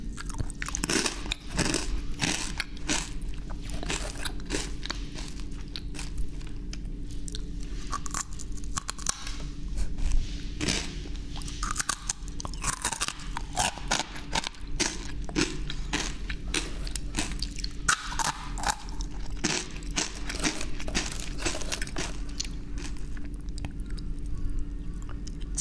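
Close-up eating sounds of food being bitten and chewed, with dense, continuous crunching and wet mastication right at the mic, steady and loud throughout with no talking.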